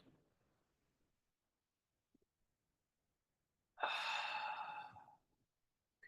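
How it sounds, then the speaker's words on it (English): A single slow, audible exhale of breath during a gentle tai chi session for balance and gait, soft and close after a near-silent pause, with no talking. "And then you breathe again."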